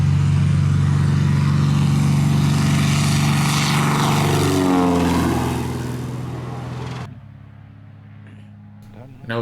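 A light propeller plane roars loudly at full power taking off downhill, its engine pitch shifting as it moves off, then fading away into near quiet.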